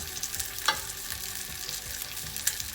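Shallots frying in a pan with a steady, moderate sizzle, broken by a couple of light clicks from a utensil, close up and with no talking.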